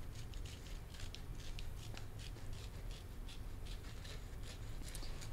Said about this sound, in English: Let me take my precision scissors though and define the mountains